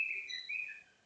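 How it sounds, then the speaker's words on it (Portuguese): A pet parrot sings indoors, giving a brief, fairly faint whistled chirp that slides in pitch and then fades out, with no other sound. "o passarinho aqui começou a cantar agora"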